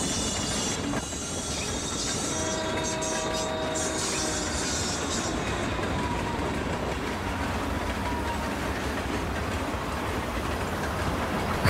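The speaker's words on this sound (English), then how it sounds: "standing right in the path of an oncoming train" An oncoming train in the video game Life Is Strange rumbles past with rattling wheels and a brief high squeal, a loud continuous roar filling the whole stretch.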